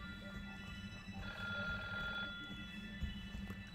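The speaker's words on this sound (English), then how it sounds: "The big black and somewhat antique-looking telephone on the counter was ringing." An antique black telephone ringing on a lobby counter in the video game Seabed, a faint bell tone that swells for a moment over a low droning background hum, then fades back.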